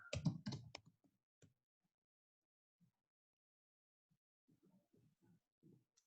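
Keyboard typing close by, with a quick burst of loud keystrokes at the start followed by sparse, faint clicks and short scattered taps, in a quiet room with no talking.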